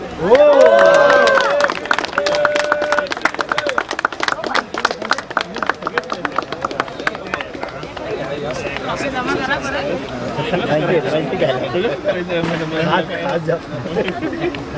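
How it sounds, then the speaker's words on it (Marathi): Audience claps at a cricket league prize ceremony, a stretch of scattered then steady applause mixed with crowd chatter and a voice over a loudspeaker early on. "टाळ्या वाजवायचे"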